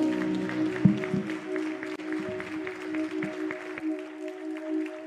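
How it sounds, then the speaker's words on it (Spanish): Church congregation applauding, scattered hand claps over a sustained musical drone, with a sharp clap standing out near the start before the clapping thins toward the end. "Démosle el aplauso al Señor Jesús."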